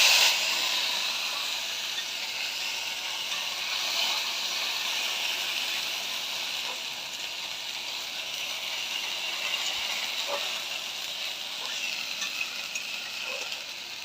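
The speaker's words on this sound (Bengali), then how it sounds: "মশলা বলতে ওই আদা, জিরে আর লঙ্কা দিয়ে ভালো মতো কষিয়ে নেব।" Ginger, cumin and chili sauté in hot oil for potol paneer, giving a loud, continuous close-up sizzle and hiss that holds evenly throughout, with faint occasional stirring ticks.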